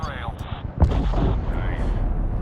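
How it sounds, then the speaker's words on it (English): A missile launching off an aircraft rail in the Medal of Honor 2010 war game, one sharp burst followed by a sustained roaring rush under combat radio chatter. "Missile off the rail."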